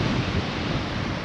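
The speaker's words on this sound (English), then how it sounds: "The wind is howling." Strong wind beside the water, a steady loud broadband rush with buffeting against the microphone, mixed with the wash of choppy surf, no voices.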